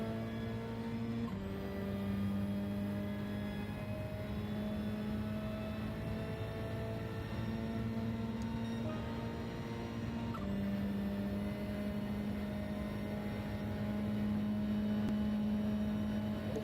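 Subaru WRX engine racing in Gran Turismo 7, a loud steady drone of the motor held at high revs with a couple of brief gear shifts, continuous and close, no talk.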